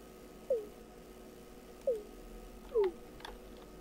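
A cat in the video game Cube World gives three short, clear meows spaced a second or so apart, with faint game ticks in a quiet background.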